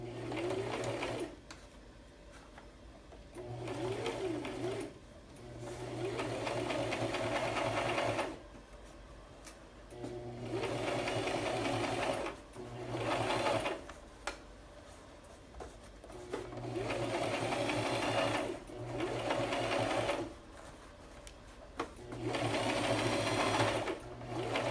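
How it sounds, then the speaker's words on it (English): A sewing machine stitches along a fabric edge in steady whirring bursts of a few seconds each, separated by short pauses, close up and alone without talk. "And sew along the edge."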